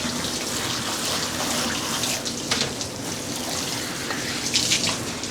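Water runs steadily from a tap while a dog is bathed, a constant close splashing rush with small irregular spatters over it.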